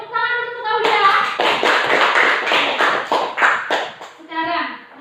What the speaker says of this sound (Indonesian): Beri tepuk tangan untuk Aulia